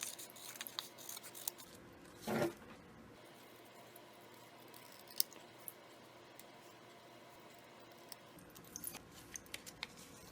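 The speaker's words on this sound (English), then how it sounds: "And then I'm going to cut them out." Scissors snip through printer paper while cutting out small half-heart shapes, giving quiet, close, sparse clicks and crisp cuts with a slightly louder rustle early on; no speech.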